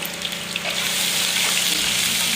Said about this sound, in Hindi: अब हम इसके अंदर डालेंगे 1 टेबल स्पून अदरक, 1 टेबल स्पून इसके अंदर जाएगा हमारा लहसुन। इसको हल्का सा फ्राई करेंगे।